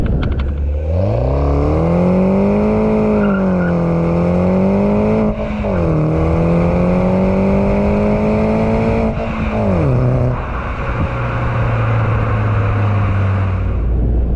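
An R56 Mini Cooper S accelerates hard from inside, engine revving up through gears with rising pitch, dipping at shifts, then settling to a steadier cruise; loud and close, with no talking.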